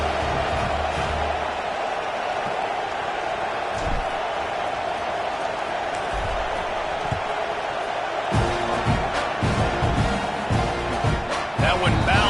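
Crowd noise from the Madden football video game on PS5 holds a steady stadium murmur and roar, swelling with louder cheering and thumps near the end.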